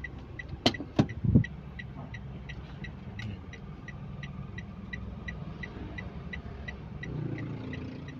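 A Toyota Wigo with a rebuilt transmission reverses on a test drive: a steady low engine rumble carries a regularly repeating high beep, with a few knocks and thumps near the start and no talking.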